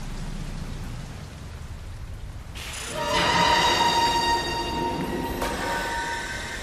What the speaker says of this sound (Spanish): En todo el mundo, tormentas letales matan sin piedad.